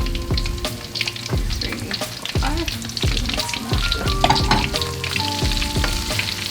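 Malaysian butter prawns fry in oil over low to medium heat, giving a continuous close sizzle broken by repeated scraping and clinking of stirring, with no talking.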